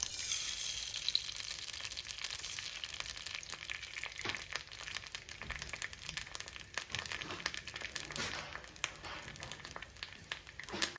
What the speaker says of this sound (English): Add some olive oil and then crack open an egg.